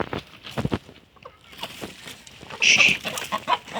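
A rooster clucks and squawks close by in short bursts, with scuffling, thumping movement and a brief shrill cry partway through.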